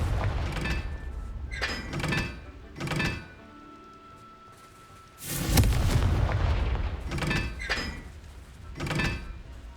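Confringo fire-blast spell cast repeatedly in the Hogwarts Legacy video game, heard as a series of sharp, loud bursts with crackling tails, several in quick succession, with quieter game ambience between them.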